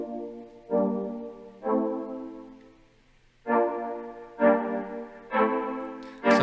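Synth chords built from sample root notes in Ableton Live 12 play as separate swelling stabs, two, then a pause, then four more in quick succession, each fading out, with no talk.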